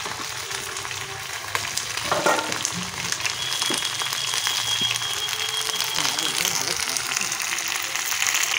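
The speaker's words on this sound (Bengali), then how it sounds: "এবার সিমগুলো হেলিয়ে দিচ্ছে, সিমগুলো ভাজছে।" Beans frying in a wok over a home cooking fire, a continuous oily sizzle with occasional stirring scrapes and clinks, steady and close, with faint background voices now and then.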